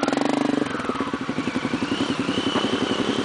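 Honda Tornado motorcycle engine running hard while climbing a steep wall, a loud, near, rough pulsing drone that stays steady throughout.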